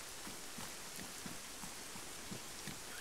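Steady rain falls across an open outdoor map in ArmA 3 on Chernarus, a soft continuous hiss with scattered low patters of drops, fairly faint and even, with no talking.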